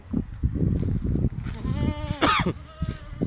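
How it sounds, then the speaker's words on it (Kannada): Goats bleat in quick succession from a farm pen, a loud quavering call rising over someone talking nearby, with softer bleats following. "ದೊಡ್ಡ ಆಡ್ರಿ, ಸಣ್ಣ ಮರಗಳು ಅವ್ರಿ ಒಂದು ಥೋಡೆ."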